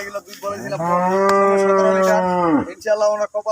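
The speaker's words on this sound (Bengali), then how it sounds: "এই গরুগুলা" A dairy-farm cow gives one long, loud, close moo lasting a couple of seconds, with faint voices and farm noise before and after.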